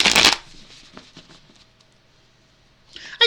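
A deck of tarot cards is riffled in a quick, crisp burst at the start, followed by softer handling taps and rustles, and a brief second flutter at the end, close and alone.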